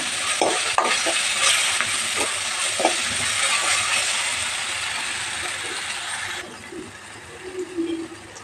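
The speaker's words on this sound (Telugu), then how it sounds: "ఈ అల్లం వెల్లుల్లి పేస్ట్ కొంచెం వేగాలి." Ginger garlic paste frying with onions in a pan for cauliflower curry: a steady, loud broadband sizzle with a few sharp stirring scrapes, easing slightly toward the end with some low clatter.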